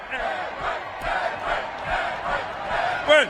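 Hometown crowd at a Bassmaster Classic bass fishing weigh-in chanting an angler's name in a rhythmic, repeated cadence, a large arena of voices in unison with a brief louder shout near the end.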